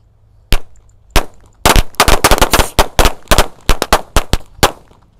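Disco firecrackers from a Crozier Galaxy pack set off outdoors, a rapid string of loud, sharp cracking pops in quick irregular bursts, close and dominant, with no talking.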